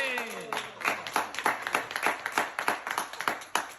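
An audience applauds at a formal gathering honouring a deputy consul general, clapping in a fairly even, rhythmic pattern at moderate loudness. A voice is briefly audible near the start.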